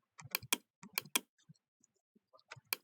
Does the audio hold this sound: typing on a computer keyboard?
yes